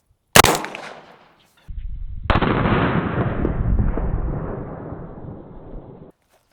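A single loud 5.56 round fired from an AR rifle into a solid wood door, a sharp close crack with a short ringing tail, then a long rumbling roll of noise that slowly fades out.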